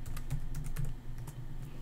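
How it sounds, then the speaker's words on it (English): A password is typed on a computer keyboard: a short run of crisp, closely spaced keystrokes, nearby and fairly quiet, with no talking. "it asks for a password, so I'm going to type that in"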